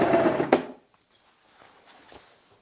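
A sewing machine runs briefly, stitching a kaftan dress along a drawn line, loud and close, then stops abruptly, leaving faint handling clicks and rustles.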